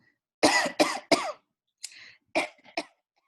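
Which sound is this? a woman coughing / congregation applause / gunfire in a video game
a woman coughing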